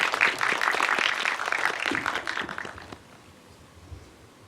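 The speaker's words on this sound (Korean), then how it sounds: "이럴 때 박수를 쳐주시는 겁니다." Audience applause at a film festival Q&A at the Busan International Film Festival, a dense burst of clapping from a hall crowd that holds for nearly three seconds and then fades away quickly.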